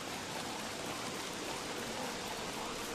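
Rain in the video game Don't Starve falls as a steady, even hiss that stays constant throughout, moderately quiet with no voices over it.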